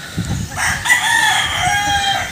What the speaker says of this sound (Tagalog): Ito yung ating ginagamit na broodcock, kumbaga.